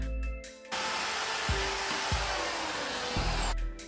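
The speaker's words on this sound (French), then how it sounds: "il faut percer 2 des bacs" A power drill boring holes in plastic storage bins for a balcony worm composter, a loud continuous whirring drone with brief pitch dips as the bit bites, preceded by quieter handling.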